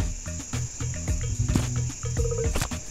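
A fly buzzes in the video game Webbed, a steady insect drone layered over the game's background music and effects.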